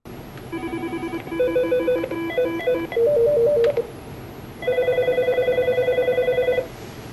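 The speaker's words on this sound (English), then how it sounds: "I'll use the up and down arrows to cycle through the different ringtones that are available." A Mitel 6757i desk phone plays a series of different electronic ringtones one after another, each a loud, close, repeating pattern of bright trilling beeps, with short gaps as one ringtone gives way to the next.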